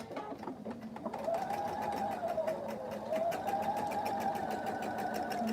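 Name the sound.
sewing machine stitching a tumbling block quilt seam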